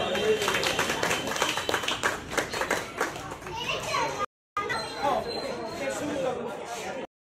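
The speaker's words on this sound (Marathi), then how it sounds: "आपण टाळ्या वाजवून स्वागत करावं." At a Bahujan Samaj Party birthday gathering in Nagpur, a crowd claps in a dense, sustained burst of applause mixed with chatter and children's voices, cut briefly by a gap.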